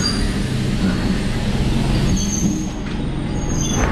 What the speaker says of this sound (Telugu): ట్రైన్ వచ్చేసి 8:15కి వచ్చింది స్టేషన్కి